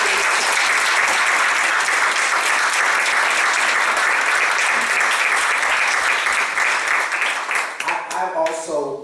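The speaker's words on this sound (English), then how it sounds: "Give that brother a round of applause." A congregation at a church ministerial panel gives a sustained round of applause, loud and continuous, thinning and fading in the final second as a voice begins to speak.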